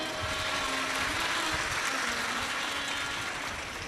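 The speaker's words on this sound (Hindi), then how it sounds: "एक बार जोरदार ताली बजाओ" Broad, sustained roar of clapping from a large audience gathered for a Shiv Mahapuran religious discourse, dense and continuous with no pauses, heard somewhat distant through a loudspeaker-like wash.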